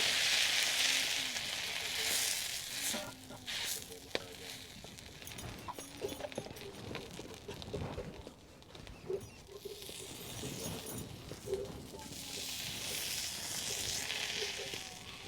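Bread slices warm in desi butter in a pan, giving a steady soft sizzle and patter that swells at the start and end, close and fairly quiet, with faint background movement.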